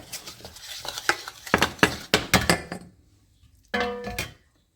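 Tripe soup seasoned with red pepper flakes and ground pepper being stirred in a pot, a quick run of close scraping and clinking strokes of a spoon against the metal, then a short pause and one last brief stir.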